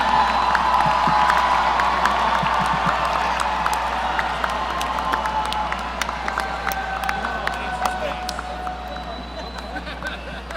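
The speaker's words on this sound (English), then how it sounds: "welcome Valdar, the Del Mar College Viking, as he leads us in the Viking Thunder Clap." Graduates and guests at a spring commencement ceremony clap and cheer together in a hall, with sharp claps standing out over a loud, continuous crowd roar and scattered whoops.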